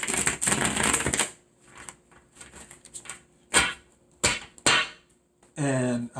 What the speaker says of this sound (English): And I'm shuffling now again